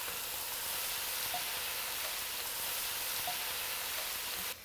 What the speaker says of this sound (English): We saute a little bit of the leek.